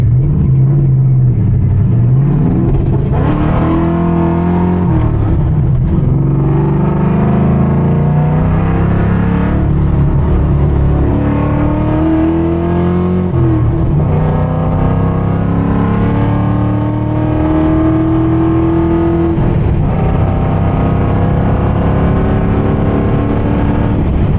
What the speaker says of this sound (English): let's do some highway pulls. First gear.